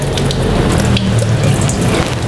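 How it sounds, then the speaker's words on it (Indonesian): Eggs for salted eggs are washed under running tap water, with a loud, steady gush and splash of flowing water into a sink throughout, and no voices. "cucinya kayak gini aja sahabatku, di air yang mengalir."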